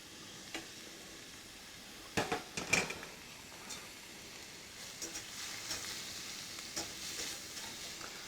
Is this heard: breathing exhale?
no